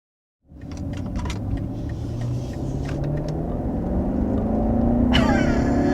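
A 2022 luxury sedan, either a BMW 750i with over 500 horsepower or a Mercedes-Benz S-Class, pulls away hard from near silence, its engine rumble rising steadily in pitch as it accelerates, loud and close.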